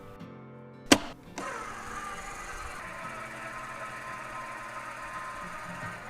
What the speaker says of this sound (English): there's a motor that causes a cutting bar to run across the length of the bottom of the worm bed